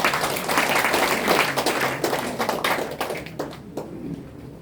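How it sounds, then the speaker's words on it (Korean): An audience at a church graduation ceremony applauds to welcome a chairman to the front, a dense wash of many hands clapping close by that holds steady and then thins out near the end. "우리 박수로 맞이해 주시기 바랍니다"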